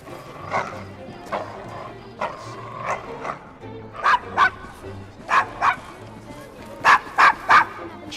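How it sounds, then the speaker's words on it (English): A dog in the video game Assassin's Creed Syndicate gives a series of sharp, close barks and yips, spaced irregularly and clustering toward the end, over low street ambience. "charming dog."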